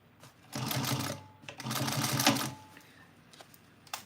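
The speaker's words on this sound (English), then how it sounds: "this is our last bit of stitching" A sewing machine stitches a seam at a 3/8-inch allowance on a box bag, running in two steady whirring bursts with a short pause between, close and fairly loud, then stopping.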